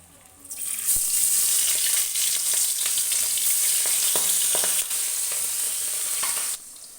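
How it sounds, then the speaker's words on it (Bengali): Live singi fish dropped into hot oil in a wok, bursting into a loud, steady hiss and crackle that holds for several seconds before easing slightly, close and with no voices. "দেখতেই পাচ্ছ মাছগুলো কড়াইতে ছেড়ে দিয়েছি। এবার হালকা করে ভেজে নেব"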